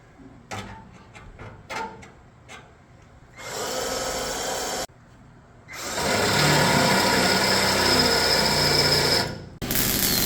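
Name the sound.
drilling on aircraft front access door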